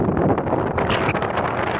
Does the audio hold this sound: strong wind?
yes